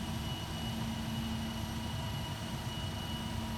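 Cessna Citation II jet engine in X-Plane 11, a steady continuous whine and roar with a constant tonal hum, even and unbroken throughout, no talk.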